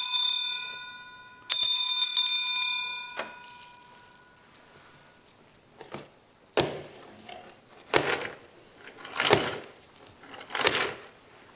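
An old disused bell rings on a theatre stage during a community production of A Christmas Carol, a bright sustained chime that fades, followed by a series of loud sharp clanks and jangles.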